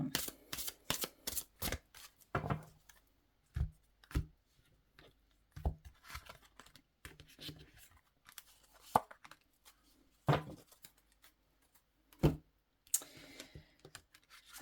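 Tarot cards shuffled for a reading: bursts of crisp riffling and slapping card sounds close by, coming in quick flurries at first and then in scattered separate shuffles with quiet gaps between them.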